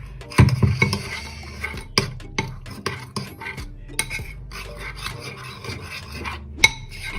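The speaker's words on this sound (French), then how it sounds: "Je vais mélanger la pâte." A hair mask paste being mixed with hot water in a bowl, the utensil scraping and clinking against the sides in an uneven, repeated stirring rhythm, close and fairly loud with no talking.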